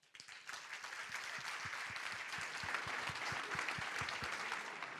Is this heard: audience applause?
yes